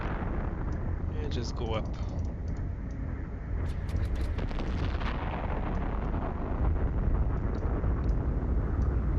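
Ship weapons fire in Eve Online during a combat site with a Loki, a dense rumbling barrage of booming shots that continues throughout. A player speaks briefly over it.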